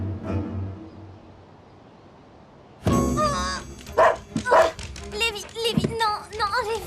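A pet dog at a home's dog door gives several short yips and barks in quick bursts after a quieter stretch, close by and fairly loud.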